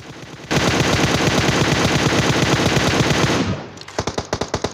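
Rapid automatic gunfire from an enemy's teammate in a shooter video game, a loud continuous burst lasting about three seconds, then a brief pause and a second short burst of distinct shots.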